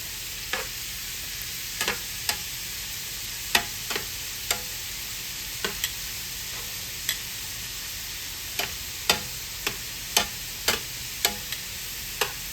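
Shrimp frying in a pan, a steady soft sizzle broken by sharp, irregular pops and ticks every half second or so, no talking.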